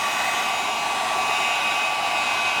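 A heat gun blows steadily while warming tint film on a 2018-2023 Ford Mustang tail light, a loud, continuous hiss of hot air with no breaks and no talking.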